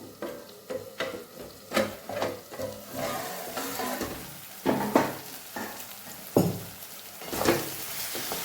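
Kathiyawadi-style green onion khariyu cooks in a covered pan with a soft, continuous sizzle and frying hiss, broken by occasional louder scrapes and stirring knocks, close and alone with no talk.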